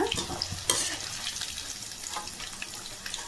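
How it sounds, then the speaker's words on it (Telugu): Chicken pakoda pieces fry in hot oil and are stirred in the pan, giving a continuous crackling sizzle with scraping stir strokes and a sharp clatter near the start. "ఒకసారి కలిపేసుకుని చూసారు కదండి, వేగిపోయి బాగాన"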